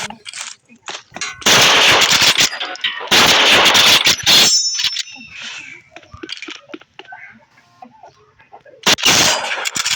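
Gunfire in a video game, including sniper shots, comes as loud bursts of rapid shooting followed by scattered sharp shots, metallic clinks and quieter effects.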